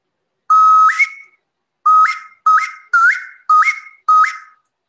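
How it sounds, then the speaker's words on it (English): Six clear blasts from a toy whistle, each a steady tone that rises in pitch at the end, the first held longest and the rest coming in quick succession, close and loud with no voices. "a lot of whistles."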